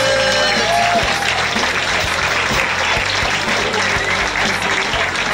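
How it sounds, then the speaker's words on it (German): Audience applause fills a rock band's live Christmas jam concert, a steady, dense wash of clapping that runs loud and continuous throughout with no break. "wo du mir nochmal einen Applaus schickst."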